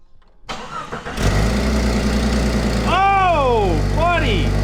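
A $900 Jeep from a marketplace cranks and starts, then settles into a loud, steady idle close by, with a rising and falling whine over the engine near the end.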